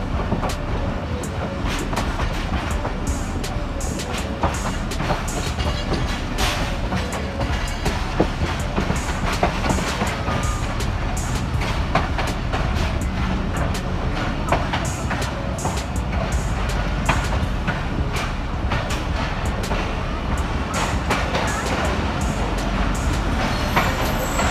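The 13 Up Awam Express rolls steadily through Jhelum railway station on a monsoon-rain run from Lahore to Rawalpindi, with a continuous loud rumble and rapid clacking wheels heard up close.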